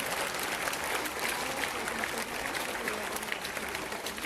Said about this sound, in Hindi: तालियां एक बार जोरदार हमारे गेस्ट के